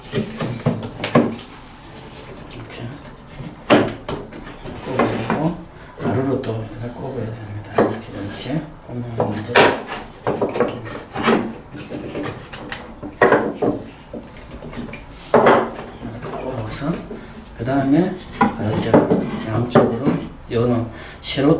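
Wooden crossbars are fitted into the holes of a traditional Korean lattice window frame, with repeated knocks, taps and scraping of wood against wood, close by, while someone talks throughout.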